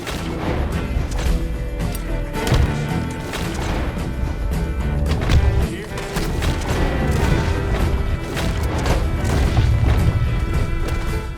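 Dense, continuous gunfire and crashing impacts, loud and close, with overlapping bursts and booms throughout like a chaotic firefight, in Red Dead Redemption 2.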